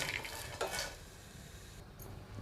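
Green cardamom pods being stirred and dry-roasted in a pan for homemade garam masala, heard as soft scraping and rattling against the pan over a faint sizzle, close and fairly quiet.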